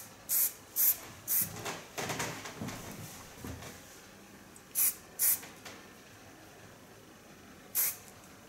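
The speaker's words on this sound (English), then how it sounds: "And to finish, I use a stronger hairspray of Glens." A can of strong-hold hairspray sprays onto freshly cut and colored hair. Several short, sharp hissing bursts come up close, in two quick clusters followed by a final single spray.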